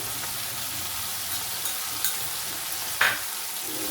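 Ginger garlic paste sizzling in hot oil in a pan while being stirred, a continuous close frying hiss broken by a few sharp scraping stir strokes, no voices.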